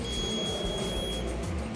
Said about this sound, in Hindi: ये मतलब पानी की टंकी भरने के बाद आवाज़ मतलब बजर बजता है